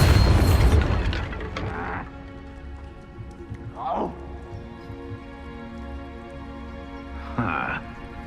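A Bombarda blasting spell goes off in Hogwarts Legacy as a loud booming burst at the start, followed by quieter game effects and a couple of short magical whooshes, with a voice speaking over parts of it.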